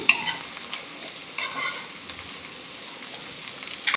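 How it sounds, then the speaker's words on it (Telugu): Fried chicken pakoda pieces are stirred and tossed in a pan, with a steady soft sizzle and scraping spoon strokes recurring throughout, fairly close and moderately loud with no talking. "చికెన్ వేసేసుకుంటున్నాను ఫ్రై చేసిన పకోడీలా చేసిన చికెన్ అండి ఇది ఇది వేసుకొని ఒకసారి మిక్స్ చేసుకుంటున్నాను"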